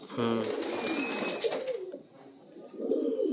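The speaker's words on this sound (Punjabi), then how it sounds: "ਇਹਨਾਂ ਨੂੰ ਗਲੋਦੂ ਕਬੂਤਰ ਕਹਿੰਦੇ ਆ" Old Galodu pigeons coo in low, throaty murmurs nearby while a person talks over them.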